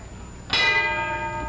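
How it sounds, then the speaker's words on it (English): A boxing ring bell at a 1955 heavyweight title fight sounds a single bright clang that rings on and fades slowly over steady arena noise. "And there's the bell."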